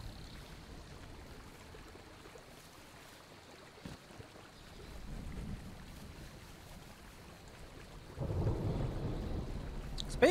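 Rain and thunderstorm in the video game Smalland make a soft, steady wash of rain, then a low rumble of thunder builds and swells louder near the end.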